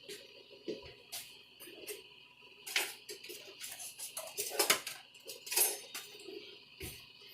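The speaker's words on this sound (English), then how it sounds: "I'm going to grab me a knife" Metal Rada kitchen knife picked up from a cluttered kitchen counter, with light clinks and clatters of utensils and dishes spaced through a quiet room, a few sharper taps standing out near the end.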